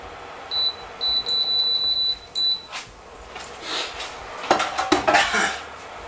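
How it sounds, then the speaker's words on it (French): Metal pots and utensils clatter in a kitchen as food goes into a saucepan, with a run of electronic beeps from an appliance first, then several loud close clanks and scrapes. "et on met ça dans la casserole. Et on va la faire cuire."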